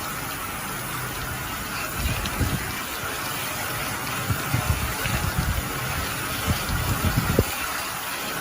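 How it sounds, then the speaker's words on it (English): A water jet rinses the external fan of an Envicool integrated air conditioner, a steady broadband hiss of spraying water with uneven low thumps and spatters as the stream hits the unit. "Hold the water torch 1 meter away from the external fan and rinse with clockwise rotation."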